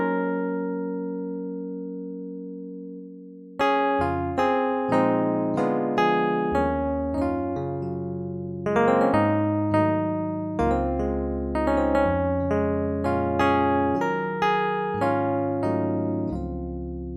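An old-school piano voice on a Yamaha Motif X8 synthesizer: a held chord fades, then a run of struck chords and single notes rings out clearly with natural decay and no voices.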